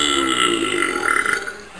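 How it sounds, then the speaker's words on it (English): A man burps loudly and close by, one drawn-out burp running through the whole moment with a rough, gurgling throatiness and no talk over it. "Literally every 4 seconds, approximately, there's a burp."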